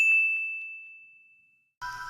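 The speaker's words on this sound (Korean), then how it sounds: "핸드폰이 울렸다" A mobile phone notification rings out as a single bright, clear ding that slowly fades over more than a second, followed by a short burst of another sound.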